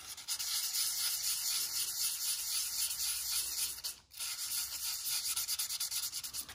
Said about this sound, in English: Got some 400 grit here. I'm just gonna hit those contacts.